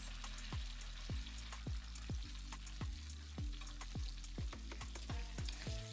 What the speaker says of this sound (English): So I'm going to go ahead and fry it now